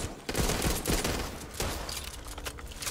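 Rapid bursts of automatic gunfire from bots in the zombie shooter Back 4 Blood, several volleys close together, loud and dense, with almost no talk over them.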